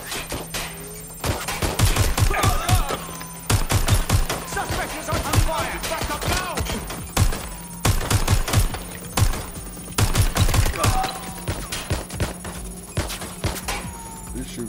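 Gunfire in Watch Dogs: Legion, loud repeated bursts and single shots clustered through the scene over a steady electronic hum, with brief speech mixed in.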